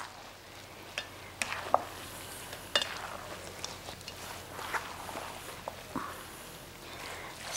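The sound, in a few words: mixing spring roll filling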